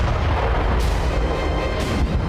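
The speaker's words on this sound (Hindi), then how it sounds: "कई मीटर ऊंची आग की लपटें उठ रही थी, जिसके बीच बीच में धमाके हो रहे थे" Ammunition exploding in a burning weapons depot in Makiivka, heard as a loud, continuous rumbling roar with heavy low booms and bursts, and no speech over it.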